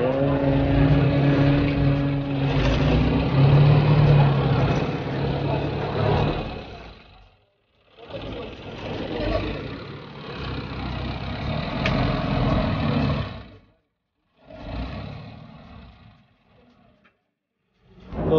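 A vehicle engine running at a village farm while it is loaded with wheat, idling steadily and loudly, then cutting in and out with short silent gaps near the end.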